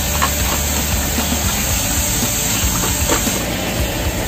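Shallots and garlic sizzle in a hot wok, a steady dense hiss of frying that runs without a break and stays fairly loud from start to finish.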